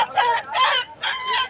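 A fighting rooster at a market, heard close and loud in short harsh clucking bursts, two or three strained crow-like calls in quick succession with no talk over them.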